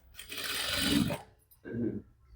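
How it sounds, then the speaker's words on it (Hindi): A sewing machine stitches the slit of a kurti in two short runs, a longer burst of fast mechanical whirring followed by a briefer one, close and fairly loud. "अब इस पे सिलाई लगानी है"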